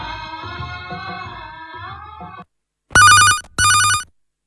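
A telephone rings in two long electronic bursts during a listener call-in to a radio music request programme, following a stretch of music and voice, then stops abruptly.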